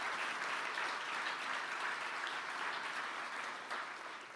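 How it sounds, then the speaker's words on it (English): Sustained applause from a crowd, a dense wash of clapping that holds steady and then fades slightly at the end. "yes, you can clap for that as well."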